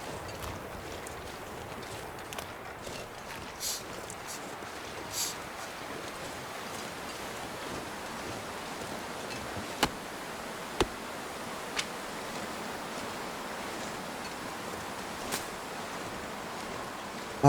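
Wind blowing across a snowy wilderness in The Long Dark survival game, a steady, soft broadband rush lasting throughout with a few faint sharp clicks scattered on top.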